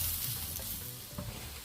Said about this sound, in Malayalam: സവാള നല്ലപോലെ വഴന്നു വന്നിട്ടുണ്ട്.